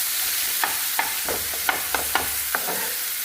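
Masala sizzling in a pan for a mackerel tawa fry, a steady close hiss broken by sharp spatula scrapes and taps every half second or so.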